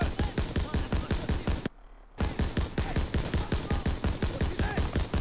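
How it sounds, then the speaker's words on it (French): Machine gun and rifle fire from the Call of Duty WW2 video game rattles in rapid, evenly spaced bursts, loud and close, broken by one short pause before the firing resumes. "Allez, allez, là, on tire de partout ici"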